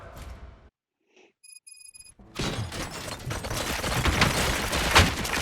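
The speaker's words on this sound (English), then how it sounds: "Gunshots? What's going on?" Gunfire erupts in the video game RoboCop: Rogue City after a brief near-silent gap with a few electronic tones, a dense, sustained volley of shots and impacts that grows louder toward the end.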